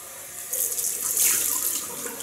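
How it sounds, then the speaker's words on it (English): A cold water tap runs into a sink during a wet shave, giving a close, steady gushing flow that swells slightly midway, with no talking. "Right, cold water now."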